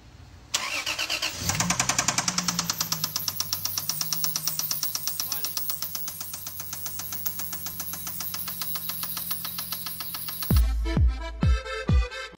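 A car engine cranks and starts after its battery is connected, a loud, rapid pulsing crank running for several seconds before the engine catches with a few heavy revving bursts near the end, with no voices.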